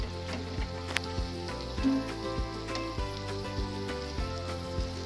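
Chowmein and fried egg stir-frying in a hot pan, a steady close sizzle with scattered sharp ticks and clatters of utensils stirring through the noodles.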